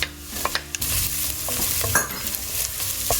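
Ginger stirred and frying with garlic and onion in a pan, a steady sizzle broken by a few sharp scrapes and clicks of a utensil, close and alone with no voices.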